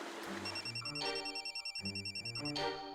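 A telephone bell rings in repeated trilling bursts with short gaps between them. It sounds fairly close but quiet indoors, and there is no talking over it.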